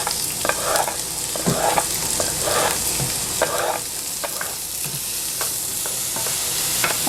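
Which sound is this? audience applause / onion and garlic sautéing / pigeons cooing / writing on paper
onion and garlic sautéing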